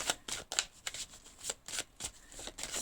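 Tarot cards being shuffled and drawn, a quick series of crisp papery riffles and flicks in an uneven rhythm, close and quiet with no voices.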